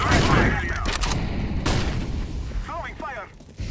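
CS:GO gameplay: flashbang and grenade blasts mixed with rapid bursts of gunfire, loud and dense, with brief chirping effects and crackling explosions filling the clip.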